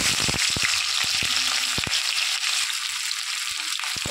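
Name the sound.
ginger, onion and garlic frying in mustard oil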